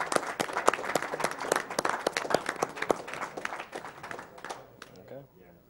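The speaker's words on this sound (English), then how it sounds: "Can we get a quick round of applause for those guys?" Audience applause at a live speedrun event: a dense burst of clapping from a crowd that thins out and fades toward the end, with a voice briefly over it.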